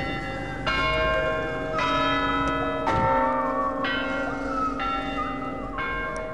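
Monastery bells ring at the gate in a series of clear, resonant strikes about once a second, each tone ringing on and overlapping the next, close and loud with no talking.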